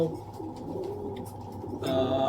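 Racing pigeons cooing at a pigeon seller's loft: soft, low, rolling coos come close and quiet over light background noise for a couple of seconds.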